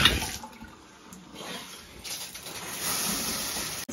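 Cold shower spray of running water hissing steadily and close, a broad constant wash that swells slightly louder toward the end, with no talk over it.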